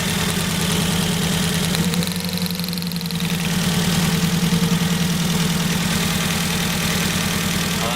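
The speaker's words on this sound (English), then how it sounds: "We've got a Misfire now, piston on one cylinder." Car engine idling roughly with a cylinder misfire and one spark plug wire pulled, a loud, uneven chugging pulse with a lopsided rhythm that briefly falters before settling back, with no voices.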